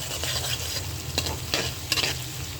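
Whole spices, including cardamom, cloves, mace and bay leaf, fry loudly in hot oil for a beef and spinach dish, with a dense continuous sizzle and occasional spoon scrapes, close up and without voices.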